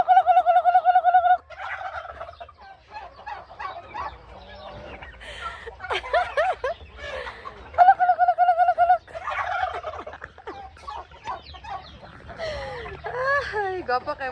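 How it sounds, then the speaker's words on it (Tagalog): White turkeys gobble in repeated rattling bursts, loud and close, with shorter calls in between, while a person talks intermittently among them. "Ay, gapa kayo mga puti nga pabo."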